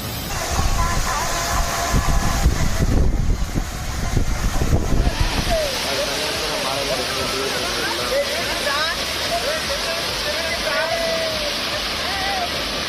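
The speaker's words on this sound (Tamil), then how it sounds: "அருகே காவிரி கூட்டுக்குடிநீர் திட்ட குழாய் உடைந்ததில் 50 அடி உயரத்திற்கு நீர் பீரிட்டு வெளியேறியது" Water from a burst Cauvery combined drinking-water scheme pipe near Mebuthakudi gushes about 50 feet into the air, a loud, steady roar of rushing spray that holds constant, with voices talking over the first few seconds.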